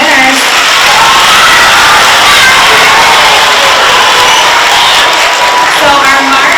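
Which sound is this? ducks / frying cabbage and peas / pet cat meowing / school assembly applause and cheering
school assembly applause and cheering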